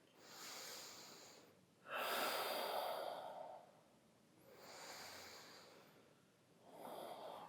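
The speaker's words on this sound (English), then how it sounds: "Take a breath or two here." Slow, audible breaths during yoga practice, close and soft, with about four long inhale-exhale cycles separated by brief quiet pauses.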